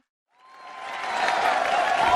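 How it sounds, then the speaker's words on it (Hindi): An audience at a school annual day breaks into applause for the nursery girls, starting from silence and building quickly into a dense, steady wash of clapping from a crowd. "एक बार जोरदार तालियां हो जाए हमारी नर्सरी गर्ल्स के लिए."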